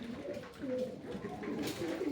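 Felaksiz pigeons coo continuously nearby, low throaty warbling calls overlapping one another, with no talking.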